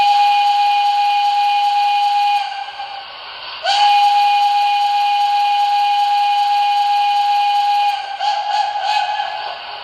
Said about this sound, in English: So here's the basic whistle.